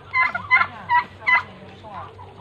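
A farm turkey gobbles in several quick, warbling bursts, close and clear, with a low hum of background noise.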